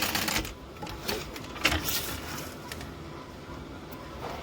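A sewing machine stitching fabric for a hobo-style bag, a quiet, busy run of rapid mechanical clicks and taps that starts stronger, then thins out and fades toward the end.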